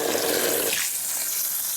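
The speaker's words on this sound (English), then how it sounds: "Put them in a bowl with some water." Water pours from a tap into a bowl of blackberries, a close, splashing rush that softens and thins out partway through, with no voices.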